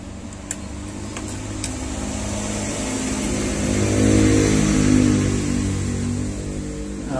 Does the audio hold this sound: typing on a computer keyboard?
no